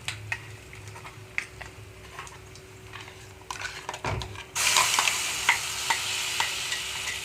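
Tomato sesame chutney is tipped into a hot tempering of seeds in oil after the stove has been switched off. Quiet crackles come first, then a sudden loud burst of sizzling that keeps hissing close by.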